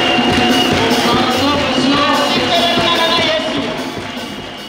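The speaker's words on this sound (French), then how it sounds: "fais l'acclamation à ce Jésus" A large church convention crowd acclaiming Jesus, a dense, loud wash of many voices cheering and shouting together, sustained throughout and easing slightly toward the end.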